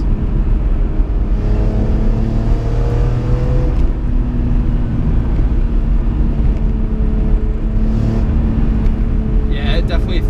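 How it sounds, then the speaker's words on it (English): A 2004 BMW M3 engine revs up through the range with induction noise from its individual throttle bodies; a loud, continuous drone from inside the car that rises in pitch, with a faint whine near the end. "You get a little bit of an induction noise too there from the individual throttle bodies"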